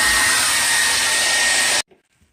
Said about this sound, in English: sit here with a fucking hair dryer and defrost that shit